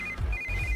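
An electronic phone ringtone trills briefly, a short bright warbling ring heard close up.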